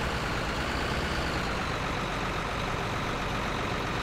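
A tractor in the Farming Simulator 17 video game drives along with a steady, low engine drone that holds an even, unbroken level throughout.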